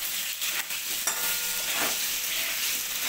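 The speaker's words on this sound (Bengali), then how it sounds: "আলুগুলো একটু লাল লাল করে ভেজে নিই" Potatoes frying in a pan, a steady bright sizzle throughout, broken by a few clinks and scrapes of stirring.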